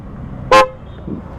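A single short, loud blast of dual wind horns on a Bajaj Dominar motorcycle sounds up close, cutting through a low background rumble.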